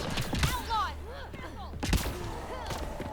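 Turret gunfire in Mass Effect Andromeda, sharp bursts of shots near 0.4 and 1.9 seconds, with whooping sci-fi energy sweeps and a voice murmuring between them.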